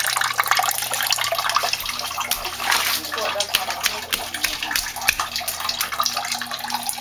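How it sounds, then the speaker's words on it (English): Water gushing fast from a broken pipe indoors, a loud continuous hissing splash that stays steady throughout with no pauses. "This is how fast the water's leaking. Out of a broken tube that was supposed to be fixed 2 weeks ago."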